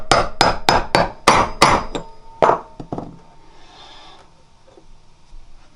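A 1 3/16-inch socket is hammered to drive a wheel bearing race into a 1980 Kawasaki KZ750 LTD, about eight sharp, ringing metal blows in quick rhythm up close, then a few lighter taps fading into quiet.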